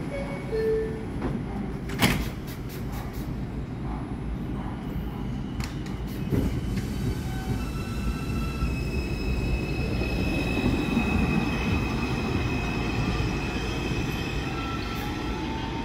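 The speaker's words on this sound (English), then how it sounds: "Stand clear of the closing doors, please." A New York subway train at East Chester–Dyer Avenue shuts its doors with a couple of sharp clunks, then pulls away with a rising rumble and faint wheel squeal, close and steady.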